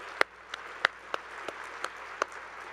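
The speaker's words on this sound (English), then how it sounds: "Let's give another round of applause for Vice Chair Carla Morales" A handful of sparse, separate hand claps ring out at a college-wide day gathering in honour of a board vice chair, faint and spaced irregularly with quiet room tone between them.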